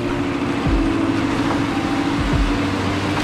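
A boat's outboard motor idles with a steady low drone during a surf launch at La Jolla, while waves wash and rumble close by.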